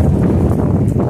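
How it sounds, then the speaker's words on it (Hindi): Strong wind blows through a home garden with potted plants such as a curry leaf plant, a loud dense roar buffeting close to the microphone without any voices. "बहुत तेज हवा चल रही है"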